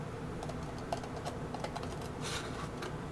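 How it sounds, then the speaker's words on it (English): Scissors trimming paper cosplay templates for a Space Marine costume, cutting along the lines: a steady run of small crisp snips and rustles close by, with no talking. "you do more of a fine trim, so you actually cut to the line."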